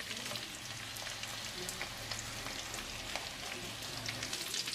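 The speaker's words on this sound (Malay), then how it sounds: "Kita goreng dulu bawang merah." Shallots sizzle steadily in hot frying oil for a fried chicken with shallots dish: a continuous close crackle and hiss with no talking.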